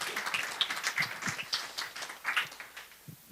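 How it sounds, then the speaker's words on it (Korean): Audience applause fills a lecture hall on Korean independence history, a dense steady clatter of many hands clapping at once, sustained throughout without voices. "박수 한번 크게."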